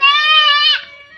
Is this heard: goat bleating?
yes